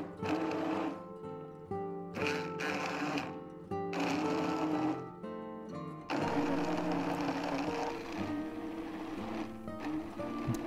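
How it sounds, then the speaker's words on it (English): Blender pureeing fish soup made with thyme and bay leaves, close and fairly quiet, running in several separate pulses of whirring motor noise broken by short pauses, then one longer continuous run. "Now you can blend the soup, but be sure to remove the thyme and bay leaves first."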